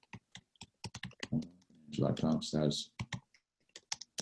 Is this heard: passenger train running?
no